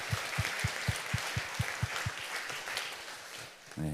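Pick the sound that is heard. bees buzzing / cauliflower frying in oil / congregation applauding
congregation applauding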